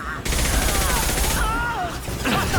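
Sustained, dense gunfire from a firefight in Mass Effect 2, loud and continuous with overlapping bursts and a sweeping whine of weapon effects across the mix.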